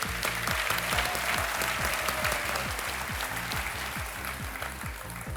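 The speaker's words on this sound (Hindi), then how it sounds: "तालियों के साथ आपका हम स्वागत करते हैं।" Dense studio audience applause on a TV quiz show set, steady and loud throughout, with a rhythmic low musical beat underneath.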